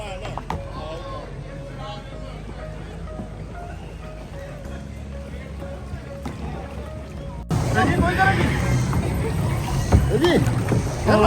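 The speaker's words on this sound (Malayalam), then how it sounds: "അങ്ങനെ നമ്മുടെ ബോട്ട് യാത്ര ഇവിടെ ആരംഭിച്ചിരിക്കുവാണ്." A boat ride on water starts quiet with a low rumble and faint tones, then turns into a loud, dense rush of engine and water noise that continues to the end.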